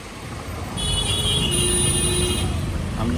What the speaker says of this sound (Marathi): कंटिन्यू ट्रॅफिक आहे कंटिन्यू.